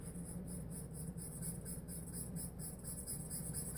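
A charcoal pencil scratches on paper in soft, rhythmic strokes, a faint, close, dry rasp repeating steadily with no talking.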